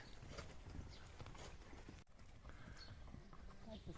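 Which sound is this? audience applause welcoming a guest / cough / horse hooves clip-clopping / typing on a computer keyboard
horse hooves clip-clopping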